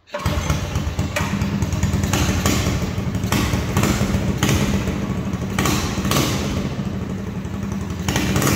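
A Kitty Cat snowmobile fitted with a Briggs four-stroke engine runs steadily and loudly up close, its engine drone continuous with periodic thumps and rattles as it moves down a driveway.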